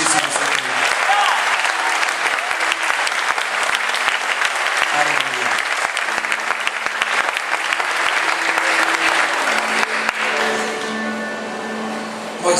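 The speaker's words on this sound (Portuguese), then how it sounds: "Dê um forte aplauso ao Messias" A congregation at a church service breaks into strong, sustained applause for the Messiah, dense clapping that holds loud for most of the stretch before easing slightly near the end, with faint voices and tones mixed underneath.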